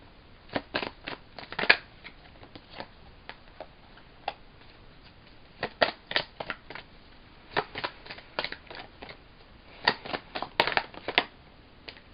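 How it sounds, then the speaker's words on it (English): Oracle cards being shuffled and pulled, giving irregular bursts of crisp, close riffling and flicking with quiet gaps between them. "Remove these and pull some more cards."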